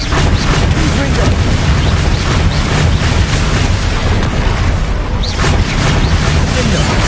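A fire spell blasting in Hogwarts Legacy, a loud, dense burst of crackling, roaring noise sustained throughout amid ongoing battle effects, with a brief dip before the rumble swells again.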